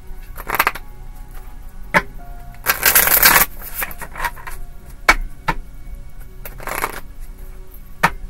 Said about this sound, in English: That wasn't a good shuffle. We're going to do one more.